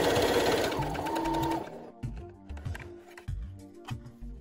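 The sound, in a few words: sewing machine sewing a straight stitch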